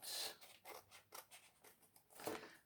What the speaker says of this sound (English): I'm just going to trim this little bit here.